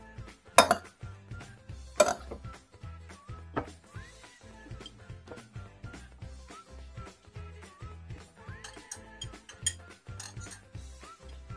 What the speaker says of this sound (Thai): คนทุกอย่างเข้ากันดีนะครับลงจานจัดเสิร์ฟได้เลยครับ